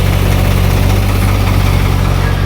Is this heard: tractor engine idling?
yes